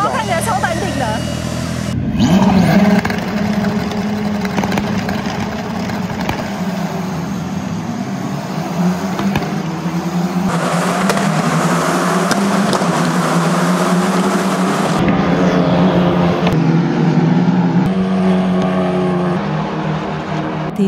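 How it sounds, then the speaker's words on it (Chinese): Race car engines roar past on the track during a novice-class race at around 230 km/h, a loud continuous snarl rising and falling as cars pass, with people talking over it. "这个轰隆隆隆隆隆、冲冲冲冲的引擎撕裂声，已经把我吓到说不出话来了"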